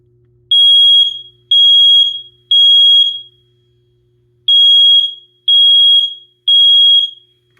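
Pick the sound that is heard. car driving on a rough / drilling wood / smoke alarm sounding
smoke alarm sounding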